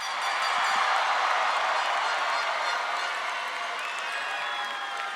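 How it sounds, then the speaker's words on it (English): Graduation ceremony crowd applauding and cheering for the class of 2025, a loud, dense roar of clapping sustained throughout and easing slightly toward the end. "Let's give one more round of applause."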